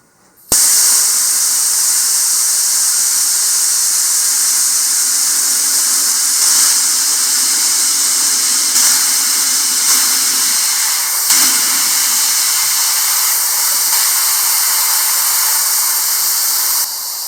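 Compressed air purging out of an air compressor hose, a loud, continuous rushing hiss that bursts on abruptly after a brief quiet and then holds steady with little change for over fifteen seconds.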